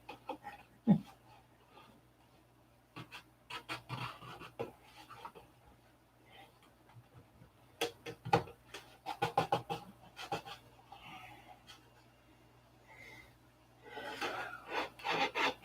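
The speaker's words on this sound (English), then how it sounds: "Get out there and sand something." Wood being sanded on a model aircraft fuselage gives faint, intermittent rasping strokes in short bursts and clusters, quiet and close with long pauses between.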